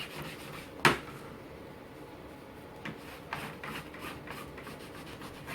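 A microfiber cloth wipes glue off a mounted block in quiet, repeated rubbing strokes, with one sharp knock near the start and a few soft taps, close and alone.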